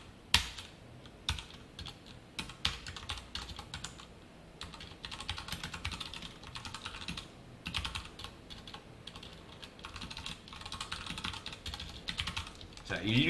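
Rapid keyboard typing rattles on through a Java programming lecture on static, bursts of close keystrokes with brief pauses, mostly alone with only faint hints of voice.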